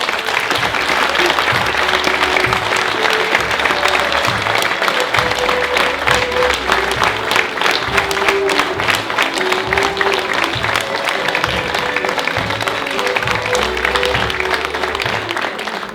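Audience applause after an older-adults' folk dance group's performance at a Lithuanian dance festival in a village leisure hall, steady sustained clapping from a large crowd lasting throughout, loud and close.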